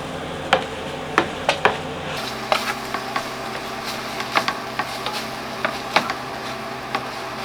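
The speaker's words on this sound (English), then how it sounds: "And again give that a really good stir around." Paprika is stirred into beef stroganoff in a Dutch oven on an induction cooktop, producing irregular light clinks and scrapes of a utensil against the pot over a soft, steady background hiss.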